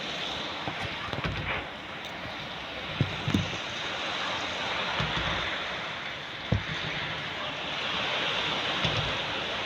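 Steady roar of heavy typhoon rain and gusting wind from Typhoon Kristine in Tanauan City, Philippines, dense and continuous, with occasional sharp thumps and knocks rising above the noise.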